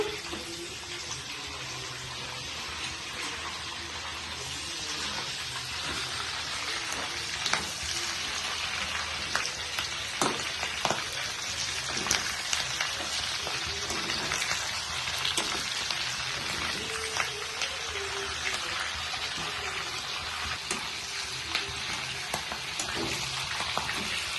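Chicken kabab frying in hot oil, a steady dense sizzle and crackle with scattered sharper pops, continuous and fairly close throughout, with no talking.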